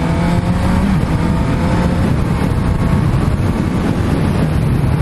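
A Honda CB650F motorcycle restricted to A2 power revs its inline engine in a loud, steady, sustained drone that climbs but struggles to go higher, with strong low harmonics and road noise throughout.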